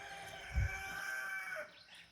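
A four-month-old rooster crows in a garden, one drawn-out, fairly faint call carrying from a short distance over a quiet outdoor background with a brief low thump.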